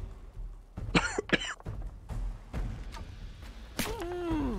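Several coughs come in a couple of sharp clustered bursts, followed by scattered thumps and a voice near the end, fairly close over a background of game sounds.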